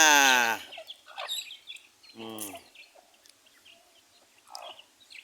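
Chickens being fed rice and leftover cooked rice cluck and squawk in short, loud bursts close by, separated by quieter pecking and rustling pauses.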